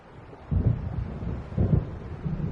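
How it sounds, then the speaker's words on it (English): Thunder rolls twice from an approaching storm in the video game Alan Wake, two low rumbling swells about a second apart over a dull windy background, moderately loud and distant. "It seems there's a storm coming."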